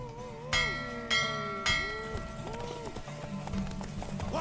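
A horse in The Witcher video game clops along with sharp hoof strikes and a whinny, amid layered game sounds and musical tones, fairly faint overall.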